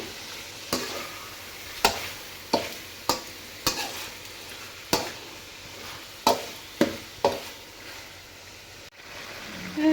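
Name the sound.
stirring red chilli chicken with salt in a pan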